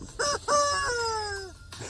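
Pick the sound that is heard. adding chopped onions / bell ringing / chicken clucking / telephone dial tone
chicken clucking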